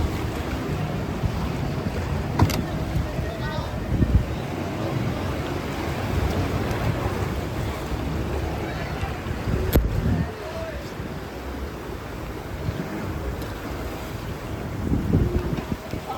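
A boat under way at sea off Malvan, with wind buffeting the microphone, a steady rush of engine and water noise, and a couple of sharp gusts or knocks.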